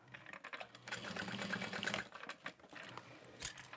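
A sewing machine runs in bursts while stitching a Sarah bag, its rapid mechanical chatter fairly close with brief pauses and small clicks between runs.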